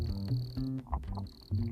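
Crickets chirp in a steady, close, high trill that runs through the whole short stretch, with deeper pulsing insect or frog-like calls beneath it and no voices.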